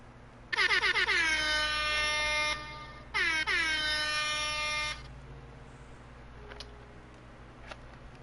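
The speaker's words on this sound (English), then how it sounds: "Air horn, air horn, air horn." Loud blaring air horn blasts, a long sustained honk, a brief pause, then another held blast, with faint clicks afterward.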